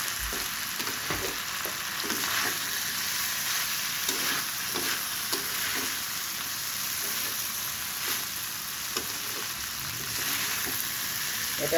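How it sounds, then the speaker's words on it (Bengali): Potato and bitter gourd fry with spices such as chaat masala, coriander and cumin powder in a pan, a steady close sizzle with occasional stirring scrapes throughout and no talking. "এখন ভাজাটা হয়ে গেছে"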